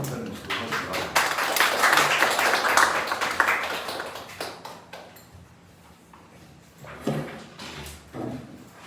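Audience applause at a climate justice labor union forum workshop, a dense burst of clapping for the first few seconds that thins out, followed by scattered quieter claps.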